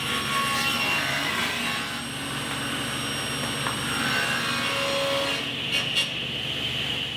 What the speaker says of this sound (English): I ripped both sides of each board and then ran them through the thickness planer